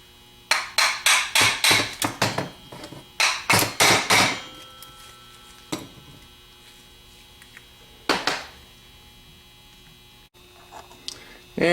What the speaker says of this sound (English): with a hammer tap on the outer edges of the back plate